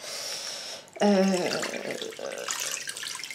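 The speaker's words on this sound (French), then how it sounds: "Donc après je vais rincer toujours avec ma microfibre." Water from a bathroom sink tap is used to rinse the face with a microfibre cloth: a close gush of running water starts abruptly and then splashes on unevenly, with faint speech underneath.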